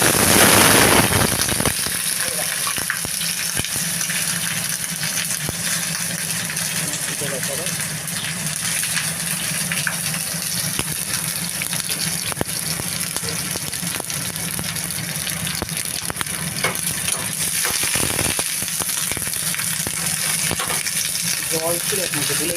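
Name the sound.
onion and green chili added to hot oil, sputtering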